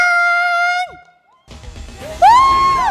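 A crowd applauds as lanterns are lit at a city lantern festival ceremony in Tainan. The broadband clapping rises after a short lull, with a bright whistling tone sweeping over it near the end.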